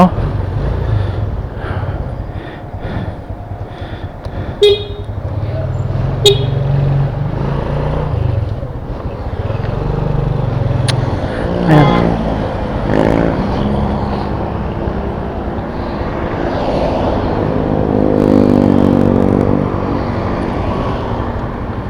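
Busy road traffic on Santa Rosa Tagaytay Road, with a steady rumble of passing cars and motorcycles and a few horn blasts rising over the din near the middle and end.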